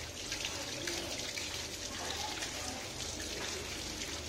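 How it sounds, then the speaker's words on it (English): Tap water running steadily as hands and forearms are rinsed from fingertips to elbows during a surgical hand scrub, a continuous close splashing hiss with no pauses. "We rinse from the fingertips and we go up till the elbow."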